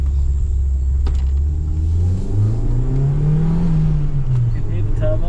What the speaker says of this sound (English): You can hear the turbo. You can hear the flutter.